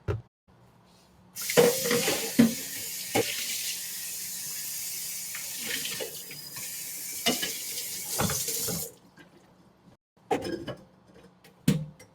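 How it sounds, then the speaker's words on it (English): Small squirt bottle filling with water, a strong steady rushing hiss that runs for about seven seconds, with a few faint knocks and clatters before and after. "let's fill up our little squirt bottle so we can do the drizzle"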